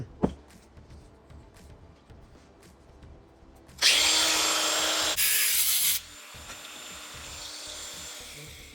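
A power tool cuts a diesel exhaust pipe to length on a Dodge Cummins turbo diesel: a sharp click, then a loud close grinding whir for about two seconds that shifts tone briefly before stopping.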